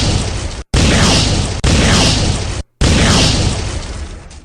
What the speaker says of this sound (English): 5 Spanish cannon shots rang out in return.